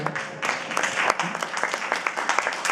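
Audience at a Shri Ram Katha religious discourse clapping in steady, dense applause for a few seconds, moderately loud with a faint voice underneath.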